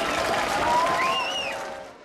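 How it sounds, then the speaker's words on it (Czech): Applause and crowd noise mark the opening of the Christmas market on the town square in Cheb, a steady clapping wash that fades toward the end while a whistle-like tone rises briefly above it. "to chce potlesk."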